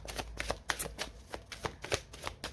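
A deck of tarot cards is riffled and shuffled in quick, rhythmic bursts of papery flutter, close and steady throughout with no voices.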